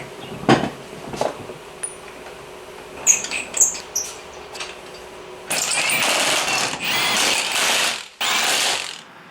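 A ratchet wrench tightens an axle nut to 45 foot-pounds while testing an aftermarket axle against OEM. Loud, sustained mechanical clicking comes in long bursts, first with scattered clanks and then steady ratcheting, close and alone.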